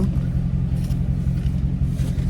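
Dodge Scat Pack muscle car engine rumbling low and steady as the car pulls out, a continuous deep drone with slight surges, close and fairly loud with no talk.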